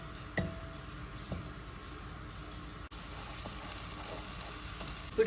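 Butter sizzling in a pan for broccoli rice: a quiet hiss at first that swells into a steady, louder frying crackle partway through, with a few soft clicks.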